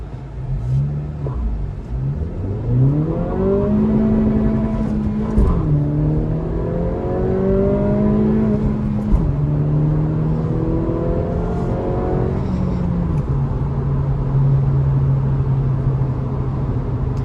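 A 2023 Acura Integra A-Spec with a six-speed manual accelerates hard in sport mode, the engine note climbing steeply through the revs, dropping at each gear change, then climbing again, loud and continuous with no talk.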